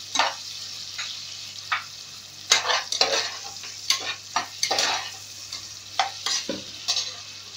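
Onions fry in a pan for meal maker biryani, giving a steady sizzle broken by repeated scraping stirs of a spoon every second or so, close by with no talking.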